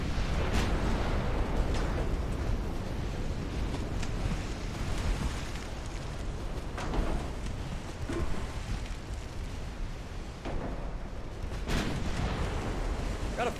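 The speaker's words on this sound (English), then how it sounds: "Massive explosions coming from that destroyer." Naval battle explosions from a destroyer in Ultimate Admiral Dreadnoughts, a dense roar of booms and bursts with several sharper blasts standing out over continuous rumbling.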